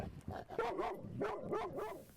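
A dog barks and yips repeatedly in quick, high, whining bursts, fairly faint and close with no voices.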